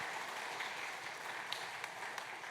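A church congregation claps during a certificate and gift presentation at a Sunday worship service, producing dense, continuous applause from a room of people, moderately quiet and without speech.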